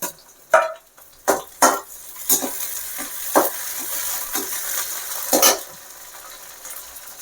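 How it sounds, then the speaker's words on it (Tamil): Onions, green chilies and curry leaves fry in a pan for a field snail gravy. A spoon stirs them in scattered scraping knocks over a soft, constant sizzle, with no voices. "வெங்காயம் வதக்கிட்டு இருக்கு இப்போ நம்ம பச்சை மிளகா போட்டுக்கலாம்"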